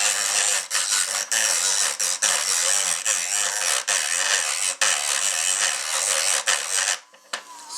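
Sandpaper roughs up the surface of a composite rudder part on an RC Aerodyne Beechcraft Baron G58 model plane, a loud, close, steady rasping scrub with short breaks between strokes.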